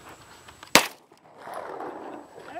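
A shotgun is fired at clay targets outdoors, a single sharp, loud report followed by a short quiet gap and faint rustling.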